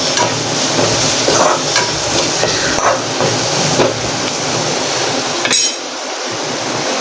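A spoon steadily stirs home-ground spice masala through potatoes and peas sizzling in a hot pan, with continuous frying hiss and occasional scraping clinks against the metal, close and loud.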